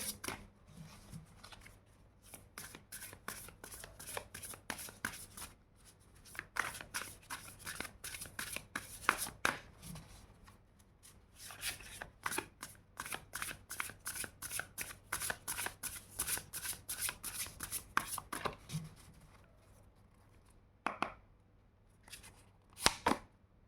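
Tarot cards being shuffled in rapid riffling bursts, close and crisp, with dense flurries of card flicks broken by short pauses as cards are drawn, quiet and without talk.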